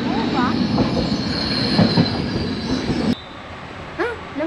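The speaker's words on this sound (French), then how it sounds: "Alors, il est beau ce train?" A train at a railway station, its wheels squealing loudly and steadily for about three seconds before the noise drops away abruptly, leaving quieter station ambience with brief squeals.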